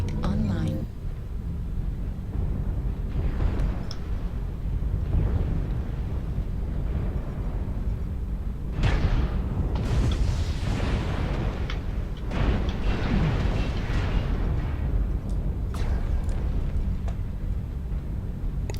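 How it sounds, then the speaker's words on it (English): Airstrike explosions in MechWarrior Online, a sustained rumbling barrage with several sharper booms layered over continuous low roar, while players talk over it. "Airstrike online."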